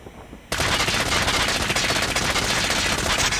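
Rapid automatic fire from an M13 rifle in Call of Duty, a loud continuous burst that starts sharply after a brief quiet lead-in and holds steady to the end.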